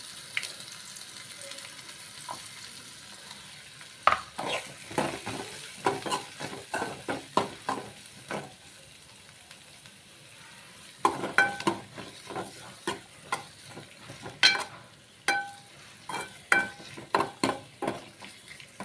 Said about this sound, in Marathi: परतून त्यात कांदा टाकायचा आहे आपल्याला चिरलेलं